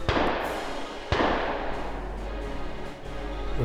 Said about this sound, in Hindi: गोलियां तड़ातड़ यान पर आकर लगी।